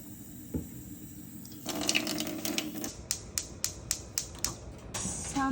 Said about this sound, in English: So add a little bit more water.